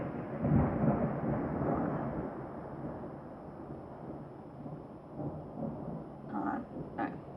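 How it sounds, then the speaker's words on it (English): A low rumble of thunder rolls through steady rain falling straight down in Portland, fading gradually, with a few soft thuds near the end. "Portland's having a thunderstorm, which means that the rain is coming straight down"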